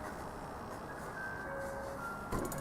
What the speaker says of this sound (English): Oh, ice cream truck.